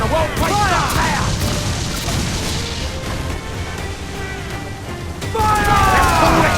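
Ship cannons fire in the Assassin's Creed IV Black Flag sea battle, heavy booms and crashes over a dense roar of battle sound, loud and close, with shouted crew voices mixed in.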